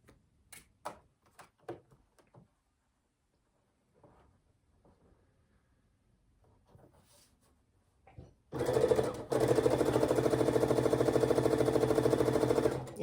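A sewing machine stitches quilt-along block pieces in a fast, steady mechanical rattle that starts abruptly after a stretch of faint tapping and handling sounds, running continuously to the end with no talk.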